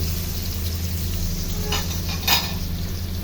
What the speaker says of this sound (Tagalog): Ilagay na natin sa medium heat at tuloy-tuloy na tayo sa ating pagsusute